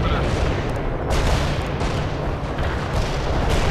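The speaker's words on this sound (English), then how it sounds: "Zulu 9 are firing mortars at the target coordinates" Continuous heavy battlefield din of mortar fire and explosions in the real-time strategy game World in Conflict, a dense, loud rumble of booms and gunfire filling the whole stretch with no clear gaps.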